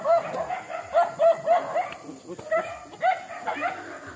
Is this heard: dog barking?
yes